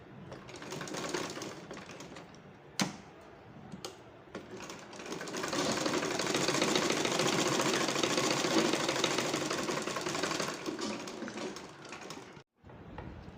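Sewing machine stitching a leaf design into fabric, a close, rapid rhythmic whir that slows and stops in short bursts, with a few sharp clicks and no speech.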